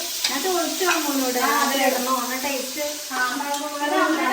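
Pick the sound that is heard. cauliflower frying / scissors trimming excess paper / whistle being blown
cauliflower frying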